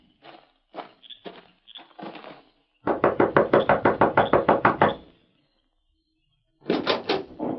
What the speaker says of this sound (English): You knock on door.